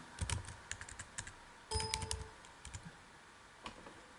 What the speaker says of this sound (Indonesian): berarti kita ketik main